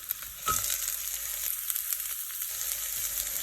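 Onions sauté in a hot pan for tomato chutney, giving a steady close sizzle with occasional scraping and stirring sounds.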